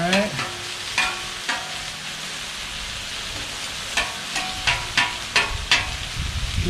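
Pastrami heats and sizzles on a Blackstone griddle, a close, steady frying hiss broken by repeated sharp scrapes and taps of a spatula against the flat top, with no talking.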